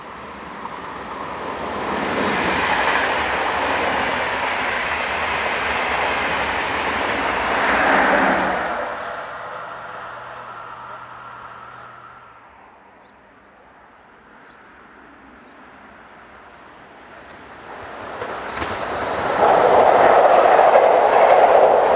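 Swiss locomotive 460049 at the rear of a Zurich to Bern intercity train in late evening, rumbling past with clattering wheels, receding into a quieter lull before another loud train roar builds near the end.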